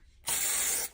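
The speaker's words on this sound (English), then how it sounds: "You're going to spray oil" A cooking oil spray can gives one steady hiss of about half a second onto the back of a measuring cup in a home kitchen, starting abruptly and cutting off cleanly, close and fairly loud.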